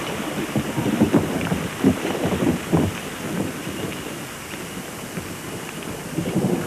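Rain falling steadily in an Australian outdoor setting, a dense hiss with gusty wind rumble and irregular low thumps, louder at the start and easing slightly toward the end, with no voices.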